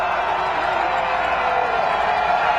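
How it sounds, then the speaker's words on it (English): A loud, steady crowd roar fills a college football stadium at Bob Green Field during an NAIA playoff game between Carroll and Montana Tech. It is a dense, continuous wall of cheering with no breaks. "Crowd is deafening here at Bob Green Field"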